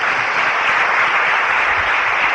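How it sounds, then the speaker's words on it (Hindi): A large audience applauds a speaker's parents with a steady, dense wash of clapping that stays loud and even throughout, with no pauses and no voices above it. "उनके लिए भी मैं चाहूंगा एक जोरदार ताली, मेरे माँ बाप के लिए।"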